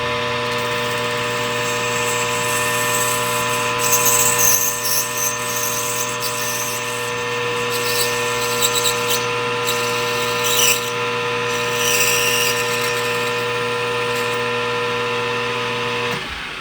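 A cutoff tool on a small, not very rigid lathe parts off the top of a trumpet mouthpiece, giving a steady mechanical whine with sustained tonal hum and scraping cutting noise, loud and continuous.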